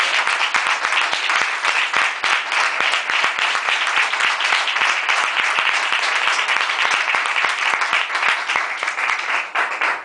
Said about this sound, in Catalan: Així tens este diploma, el xec amb 100 euros i un altre aplaudiment.